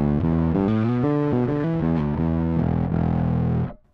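A bass guitar runs through an MXR bass overdrive pedal with clean signal blended into the distortion, playing a steady run of distinct notes for several seconds before cutting off abruptly near the end.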